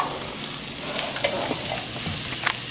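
Onion and garlic frying in a pan: a steady, close sizzle with light stirring scrapes throughout and no voices.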